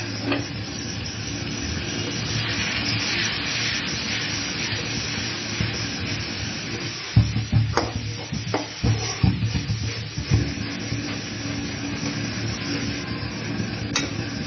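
Spices hit onions fried light brown in a pan for a chicken curry, setting off a steady hiss of sizzling oil, followed by a run of scraping, clattering stirring strokes.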